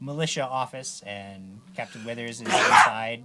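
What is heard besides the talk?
sneeze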